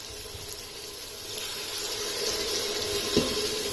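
Water poured from a glass into beef that has been frying in a pot for a Lahori bong shorba, a steady hissing, splashing pour close by with no talk.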